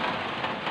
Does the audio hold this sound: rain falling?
yes